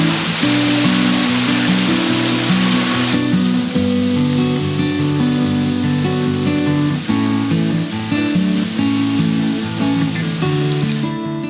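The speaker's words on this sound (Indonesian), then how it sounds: "air ternyata kembali membentuk air terjun yang lain" A steady, loud rush of falling water from the Suangga waterfall in Bulusaraung fills the scene, broad and continuous with no breaks.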